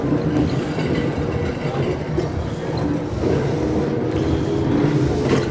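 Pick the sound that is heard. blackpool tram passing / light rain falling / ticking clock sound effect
blackpool tram passing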